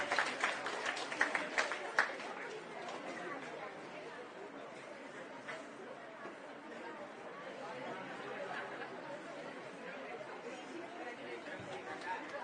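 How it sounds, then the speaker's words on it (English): Audience applause at a school outreach prize ceremony on India's Aditya L1 solar mission, moderate clapping in the first seconds that settles into crowd murmur and chatter, with people talking throughout. "A big round of applause please."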